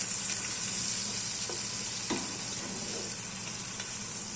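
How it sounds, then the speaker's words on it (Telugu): Thinly sliced onions fry in oil in a pan for a vegetable chicken curry, giving a steady high sizzle with a few soft scraping stirs now and then, close and fairly quiet. "ఉల్లిపాయలు వేసుకొని కొద్దిగా వేపుకోవాలి."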